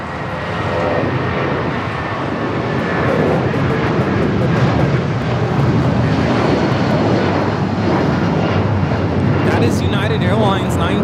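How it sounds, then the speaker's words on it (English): A Boeing 757-200 taking off from Los Angeles International for Newark, a strong, sustained jet roar with crackling texture, heard nearby while people talk over it. "Airlines 1950 taking off to Newark on the 757-200"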